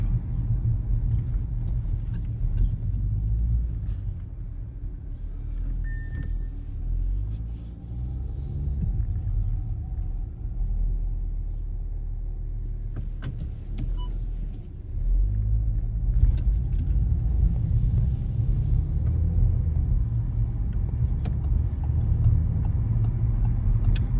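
An Audi RS4 driving up a winding Alpine road in Austria, a steady low engine and road rumble heard from inside the cabin, easing briefly mid-way before swelling again, with no one talking.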